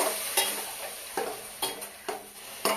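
Onion paste being sautéed in a pan for Bengali doi katla, with a soft background sizzle broken by about six sharp spatula scrapes and knocks at irregular intervals, close and clear.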